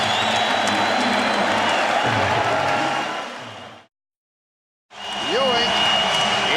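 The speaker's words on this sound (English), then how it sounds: "The crowd reacts with the Knicks up by 3" Fans at Game 5 of the 1994 NBA Finals between the Knicks and Rockets roar late in the fourth quarter with the Knicks up by three: a loud, sustained wall of cheering that drops briefly to silence, then returns under a broadcaster's voice.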